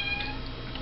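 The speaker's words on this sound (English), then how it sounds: "Cat." A cat meows in a single short cry indoors, up close and fairly loud, with no talking over it.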